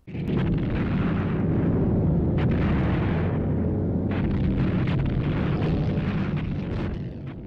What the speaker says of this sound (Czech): Nebe se rozsvítilo výbuchy, Halifax je uvítán prudkou protiletadlovou palbou.